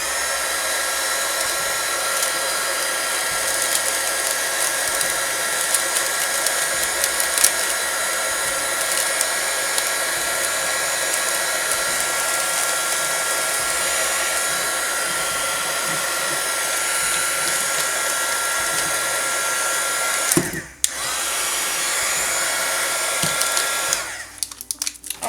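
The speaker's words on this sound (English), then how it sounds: "we're going to take our loud and noisy heat gun tool and just gently roll it around" A loud heat gun blows a continuous, steady whooshing roar as it shrink-wraps a handmade berry vanilla donut soap, holding constant for about twenty seconds before briefly cutting out and resuming.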